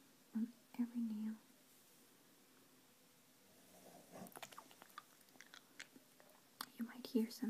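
Hard candy being eaten up close, with soft crunching and clicking in scattered bursts between hushed, whispery talk.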